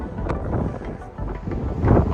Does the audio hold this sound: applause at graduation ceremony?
no